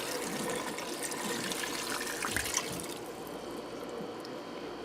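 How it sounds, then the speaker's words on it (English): Water poured into a pressure cooker for a beer-braised beef stew, a steady continuous gushing and trickling stream that runs for several seconds, fairly close and alone with no talking. "I'm going to add some water."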